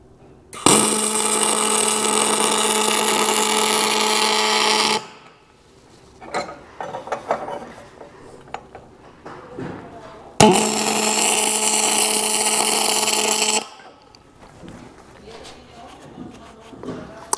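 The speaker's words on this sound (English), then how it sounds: "So now we're going to come in and weld this thing in fully here." A shock mount being welded onto an axle bracket: two loud, sustained buzzing, crackling bursts of about four and three seconds, separated by quieter clinks and handling noises.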